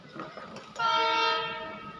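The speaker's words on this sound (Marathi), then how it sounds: "आली आली हॉर्न हॉ हॉकिंग तर ही बघा आली ट्रेन" A train horn sounds at Karad railway station as the train arrives, a loud sustained blast starting partway through over a background of station rumble and murmur.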